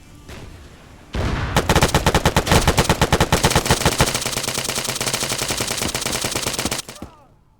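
Weapon fire in a video game: a loud, sustained burst of rapid, evenly paced automatic shots lasting about six seconds before it stops abruptly, heard alone without talk.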